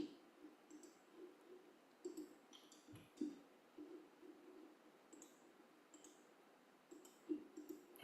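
Soft, close computer mouse clicks, scattered irregularly and spaced a second or so apart, over a low steady background hum.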